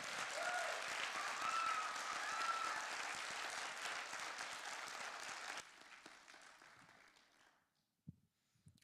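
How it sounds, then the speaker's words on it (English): A crowd at an interfaith Pride gathering claps steadily for several seconds, then the applause thins and fades out, leaving a few scattered knocks near the end. "can we give a round of applause for Pam?"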